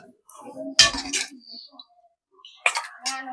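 Fish curry scooped from a pot with a metal serving spoon, giving a few sharp clinks of utensil against pot and plate in two short bursts, alone with no talk.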